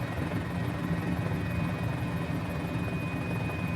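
A Mini-500 helicopter in a flight simulator over Easter Island gives off a steady, loud rotor and engine drone with an even, unbroken hum throughout, with no talk.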